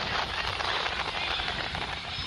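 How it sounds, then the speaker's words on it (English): Helicopter rotors spinning up before takeoff, a dense broadband roar with heavy wind buffeting and rapid choppy texture, loud and close throughout. "Rotors have started up,"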